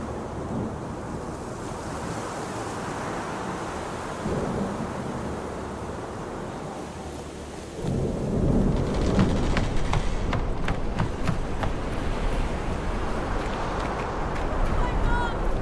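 A worsening storm in the video game Deliver Us Mars: a steady roar of wind and rushing weather that surges louder midway and keeps blustering, with a voice speaking over it.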